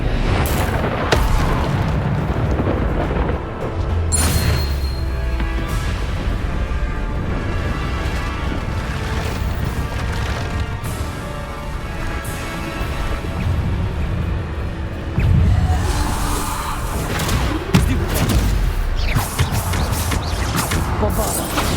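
Repeated booming blasts from Bombarda explosion spells in Hogwarts Legacy during a wizard duel, a continuous loud barrage of impacts and crashes layered with spell effects.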